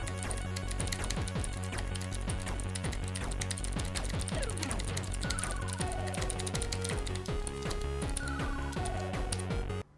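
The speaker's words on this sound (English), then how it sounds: "I pointed the mic down at the keyboard so you can hear it as I type" Rapid continuous typing on a tiny 40% mechanical keyboard, dense close clacking keystrokes recorded with the mic pointed at the keys, steady throughout with no speech.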